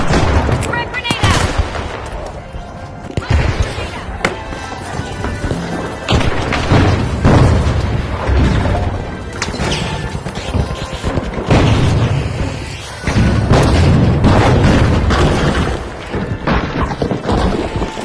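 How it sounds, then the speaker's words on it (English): Frag grenade blast and gunfire in a video game, with dense repeated booms and shots over about eighteen seconds, mixed under a game announcer's voice and busy action sound. "Throwing a frag! Frag grenade"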